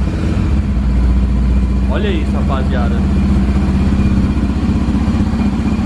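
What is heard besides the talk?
Honda XRE 300 motorcycle idling with Coyote exhaust, no air filter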